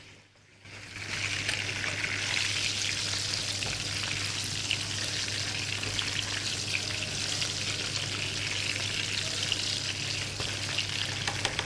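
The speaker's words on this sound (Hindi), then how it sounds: "जब तक ये यहाँ पे फ्राई हो रहा है" Eggplant and green chillies shallow-frying in hot oil for a Pakistani bhagaray baigan dish, a loud close sizzle that begins abruptly and crackles steadily throughout, with a low hum underneath and no talking.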